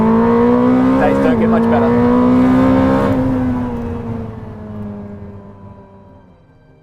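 A 2023 Ferrari SF90 XX hybrid track car with 1,000 horsepower runs flat out at the Fiorano circuit, its engine screaming high, shifting once, then fading into the distance as someone speaks over it.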